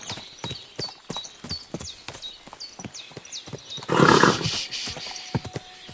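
Horse hooves clip-clop in a quick steady rhythm in the video game Kingdom Come Deliverance 2, close and clear, then a loud whinny rises briefly over the hoofbeats before the steps continue.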